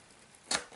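A paper piercer punches through Early Espresso cardstock in a single short, crisp poke, close and fairly loud against near silence, followed by a faint scratch.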